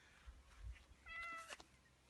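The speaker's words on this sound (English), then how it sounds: "here's the cat" A cat gives a single short, fairly quiet meow close by, with a few faint soft sounds before it and no voices.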